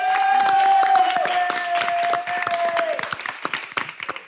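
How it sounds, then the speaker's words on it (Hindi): Studio audience on a reality competition show breaks into steady, loud applause to welcome a new wild-card mentor. A sustained tone sits over the first three seconds, and the clapping grows sharper and more scattered toward the end. "बजाओ ताली।"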